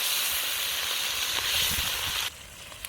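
Garlic, ginger and chilies frying in a pan for chili crab at an overnight camp, a steady broadband sizzle that drops off sharply near the end.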